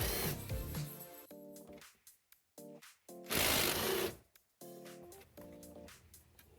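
A tool works loose two 13 mm bolts during a heater core replacement on a 2009 Silverado/Sierra truck: close, rapid buzzing ratchet bursts broken by short pauses, with one louder rushing burst in the middle.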